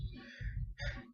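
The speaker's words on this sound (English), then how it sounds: "that sound is my brother drumming" A brother drums in the background, heard as muffled, loud low thuds in a steady repeating rhythm with short gaps and a brighter tonal layer above.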